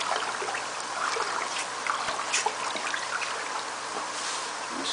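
A paint stick stirs nutrient water for a pepper aeroponic system, giving a soft, continuous trickling and sloshing at low volume with small splashy peaks.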